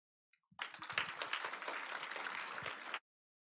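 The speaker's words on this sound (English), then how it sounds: "round of applause for high school, please" Audience applause for high school speakers at an English speaking contest at a Christian school, a burst of many hands clapping that starts abruptly, holds steady for about two and a half seconds, then cuts off.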